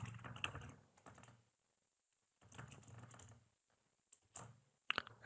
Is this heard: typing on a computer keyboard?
yes